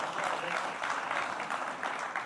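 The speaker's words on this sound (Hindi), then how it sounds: "तालियां बजाइए अशोक जी के लिए।" An audience at a poetry stage event claps steadily for a renowned Hindi poet, a soft, continuous patter of many hands heard at a moderate distance, with no voices over it.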